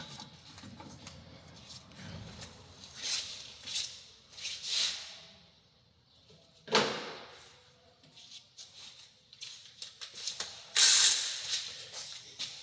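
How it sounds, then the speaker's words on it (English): Ratchet with a 6-sided socket working a brake bolt on a Jaguar X-Type estate, giving quiet, irregular clicking bursts and creaks with a sharper snap near the middle and a louder clatter toward the end. "I'm going to go with a 6-sided socket on it now."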